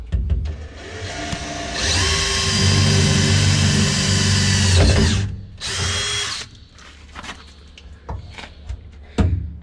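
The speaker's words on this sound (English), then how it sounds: "I'll probably drill 2 holes in there to let the water drain out." A power drill whirs steadily for several seconds drilling drain holes, a second shorter burst follows, then clatter and handling noises close by.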